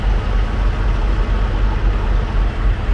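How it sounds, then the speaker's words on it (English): Parked trucks idle together in a continuous heavy, low engine drone, close and loud, with no voices. "a lot of these guys still got their trucks running and everything"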